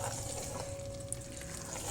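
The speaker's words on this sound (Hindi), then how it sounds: "अब हम इसको थोड़ी देर भूनेंगे ताकि अगर पानी थोड़ा बहुत इसमें है तो वो खुश्क हो जाए" Boiled potatoes with fenugreek leaves being fried in oil in a pan, giving a steady, soft sizzle with a faint constant hum and one brief tick, with no voices.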